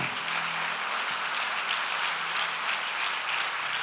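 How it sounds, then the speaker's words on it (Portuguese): A church congregation at a Baptist Sunday evening service applauds, a soft, even wash of many hands that sounds almost like rain, heard at a distance with no voices over it. "Pode aplaudir o Senhor"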